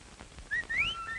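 A man whistles to call his mule, giving a short, clear, rising whistle close by with no talk.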